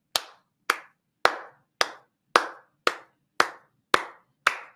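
Nine sharp hand claps at a slow, even pace, close and isolated against silence, each with a brief fading tail.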